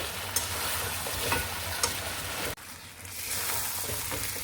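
Spices sizzle and are stirred in a hot pan for a country chicken curry. There is a steady frying hiss with a few faint scrapes of the spoon, and no talking.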